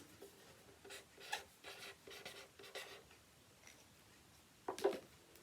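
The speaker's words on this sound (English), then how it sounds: "So I am going to write John." A marker or pen scratches out a short name on paper or a board, soft close strokes in a few quick bursts followed by a sharper final tap, faint and with no talk.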